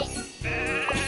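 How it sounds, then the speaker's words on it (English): Cartoon sheep that have wandered onto railway tracks in a children's train animation bleat loudly over a continuous music bed, one drawn-out quavering call filling the short moment. "Sheep have wandered onto the tracks."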